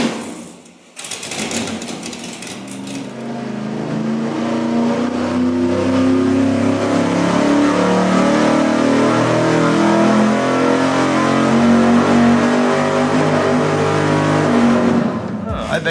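A tuned car engine runs hard and revs on an engine dyno, a loud continuous roar with shifting harmonic layers and a pulsing quality, rising after a brief quieter start and staying close and sustained.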